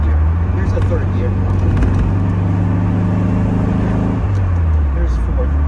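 A 1965 Fiberfab Avenger GT-12 pulls along in third gear. Its loud, steady engine drone fills the whole stretch, and the engine note drops and shifts near the end.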